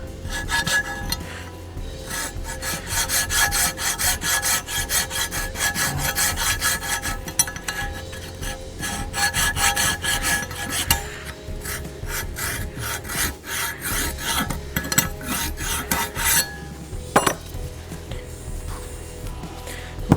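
A hand file rasps steadily against rusty brake parts on a Ram 2500 Cummins diesel pickup, a loud continuous gritty scraping of quick back-and-forth strokes close up, with a short pause near the end.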